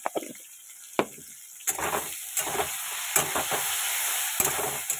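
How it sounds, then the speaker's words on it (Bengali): Bitter gourd pieces fry in hot oil in a pan with a steady sizzle, punctuated by occasional clinks and stirring knocks. "এবার করলাগুলো ভেজে নিচ্ছি।"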